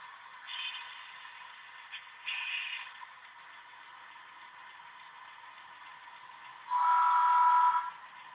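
A model freight train on an HO or Z scale layout approaches, its horn sounding in short bursts and then one longer, louder blast near the end over a steady rolling hum.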